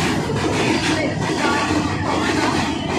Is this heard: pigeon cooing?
no